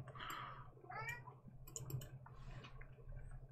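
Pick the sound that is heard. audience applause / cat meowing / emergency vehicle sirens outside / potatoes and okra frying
cat meowing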